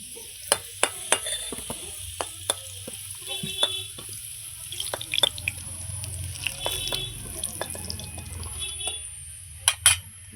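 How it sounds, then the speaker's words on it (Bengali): Cauliflower frying in a pan of oil for khichuri, giving a steady low sizzle with scattered sharp clicks and scrapes of stirring close by, no talk. "এতে আমি আর কপিটা ভেজে নিচ্ছি।"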